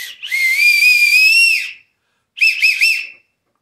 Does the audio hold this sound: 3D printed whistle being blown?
yes